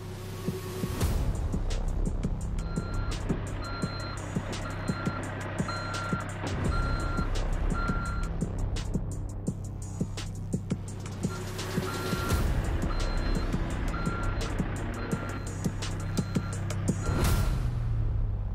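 Highway patrol vehicles reverse parking beside the busy N1 highway, their reversing beeps repeating steadily and evenly for a long stretch over continuous engine and traffic rumble.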